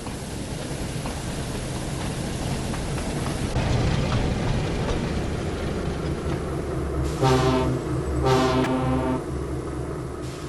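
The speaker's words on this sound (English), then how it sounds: "Suddenly, Diesel pulled into the yard with a train of trucks." Diesel, a diesel engine in the Thomas and Friends game, pulls a train of trucks into the yard: a steady rolling rumble of wagons with rhythmic clicks, plus two short horn blasts near the end.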